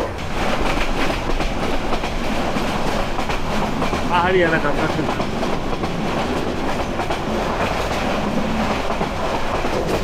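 The Mohanagar Express runs from Chittagong toward Dhaka through hilly country, filling the space with a steady loud rumble and clickety-clack of the carriages. Someone speaks briefly over the train noise.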